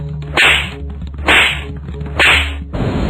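Three sharp, loud whip-like slaps land at steady one-second intervals, each followed by a brief ringing tail, with a fourth smack cut short at the end, over a low rumbling music bed.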